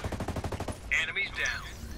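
Rapid automatic gunfire from hostile soldiers in Ghost Recon Breakpoint, a quick evenly spaced burst of shots followed by a few sharper cracks and a fading tail, with no one talking.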